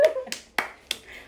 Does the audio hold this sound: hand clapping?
yes